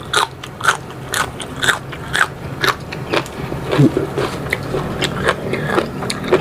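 Loud, crunchy chewing of apple snails with repeated crisp bites and crackles in a steady rhythm, close up and without talk.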